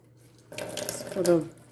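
Water from a kitchen tap runs briefly over mushrooms being rinsed. After a short quiet start, a close, splashy gush follows and then eases off.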